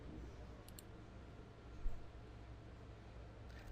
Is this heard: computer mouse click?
yes